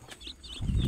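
Pet chicks give a few quick, thin high peeps close by over a low rustle, all within under a second.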